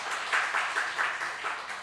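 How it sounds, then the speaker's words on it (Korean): A church congregation claps during a Friday service to welcome a new education minister, a dense round of applause with slightly pulsing rhythm, near and steady for under two seconds. "여러분 큰 박수 한번 부탁드리겠습니다."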